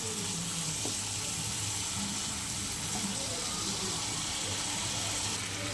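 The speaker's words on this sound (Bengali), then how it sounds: "টমেটো বাটা, জিরের গুঁড়ো, লঙ্কার গুঁড়ো, হলুদ গুঁড়ো দিয়ে মাছের মাথাটা সুন্দরভাবে কষিয়ে নিচ্ছি।" Fish head sautéing with tomato paste, cumin, chilli and turmeric powder, a dense steady sizzle held close and even throughout with little variation.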